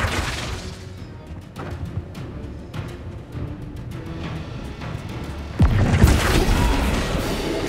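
In Hogwarts Legacy, a Flipendo spell strikes with a sudden heavy boom and crash that rises over a steady bed of game ambience and scattered clicks, then rumbles on loudly.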